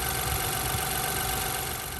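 A 2023 Ford Bronco Sport Big Bend's 1.5 liter engine, paired with an automatic transmission in a 4x4, runs at a steady idle with a constant, dense hum throughout.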